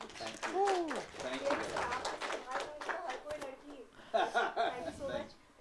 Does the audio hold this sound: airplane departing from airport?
no